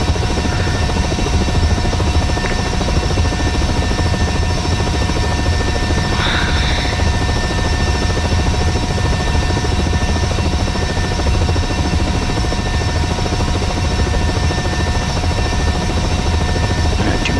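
Engines of a UH-60M helicopter running in the Aerofly FS4 flight simulator, a loud, steady turbine whine and rotor drone that holds unchanged throughout with no talk.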